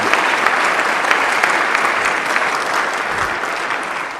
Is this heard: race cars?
no